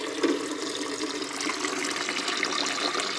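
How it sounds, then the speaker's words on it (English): Filtered water runs steadily into a Xiaomi Mijia instant hot water dispenser's tank, a continuous close hiss of pouring liquid for a few seconds with no talking. "And then just gonna fill some filter water."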